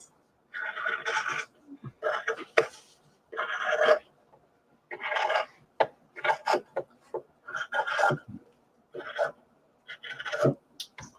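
Scissors trimming quilt binding fabric while sewing binding onto a quilt, a series of short rasping cuts in bursts with brief pauses, close and fairly clear.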